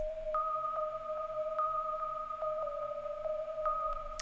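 Synth arpeggio with a pure, sonar-like tone repeating two alternating pitches in a steady rhythmic pattern within a hip-hop beat, clear and alone.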